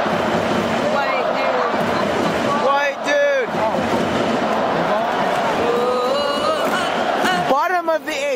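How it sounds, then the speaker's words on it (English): A large crowd at a Japanese baseball game, Yomiuri Giants vs. Seibu, keeps up loud, continuous chanting and cheering with whistles and horns, while nearby people talk over the stadium roar. "They're still cheering."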